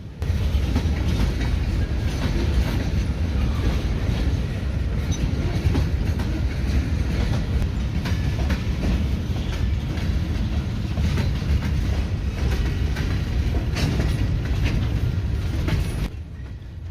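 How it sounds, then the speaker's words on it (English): A switcher locomotive shoving a long cut of rail cars into a pass track, a steady loud rumble of rolling wheels with faint rhythmic clicks and occasional squeals throughout, ending abruptly. "Here, the switcher is shoving a long cut of cars into what is called the pass track for a later pickup."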